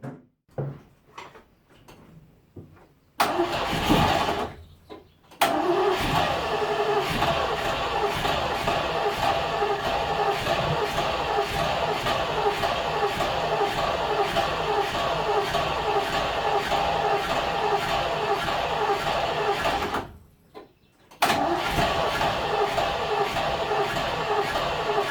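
A 1972 Range Rover's engine, choke pulled fully out, catches after a brief crank and runs loud and steady up close, cutting out briefly near the end before firing up again.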